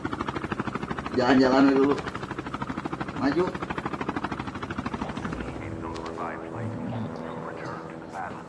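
A helicopter in the Call of Duty Mobile video game gives off a steady, pulsing rotor whir throughout, while players talk over it close to the microphone.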